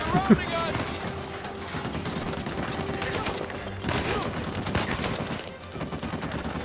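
Dense video game gunfire from Uncharted 4 crackles in bursts and rapid volleys across the whole stretch, loud and busy, with a voice heard shouting in the mix.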